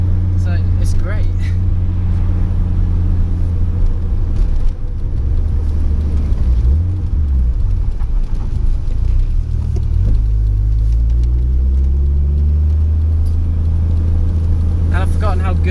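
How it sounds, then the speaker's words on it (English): A Nissan 200SX S13 with a 400 hp RB25DET six-cylinder engine rumbles loud and deep while driving in third gear at low revs, a steady throaty drone with voices speaking over it. "And I've forgotten how good that rumble of the RB is."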